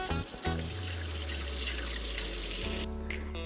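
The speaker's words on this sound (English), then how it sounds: "we're gonna remove our corned beef brisket and rinse it on all sides in our sink" A kitchen sink tap runs steadily while a corned beef brisket is rinsed beneath it, water splashing continuously up close with a brief change in the flow near the end.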